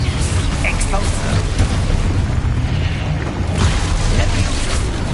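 Explosion spells burst out in Hogwarts Legacy, loud booming blasts and crackling pops over a dense game soundscape, while a voice shouts spell names over them.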